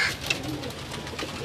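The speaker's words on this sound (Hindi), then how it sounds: "ये जी सलारे टैडी कबूतर हैं।" Salara Teddy pigeons coo softly and steadily at close range, a low continuous murmuring with a brief brighter chirp near the start and no talk over it.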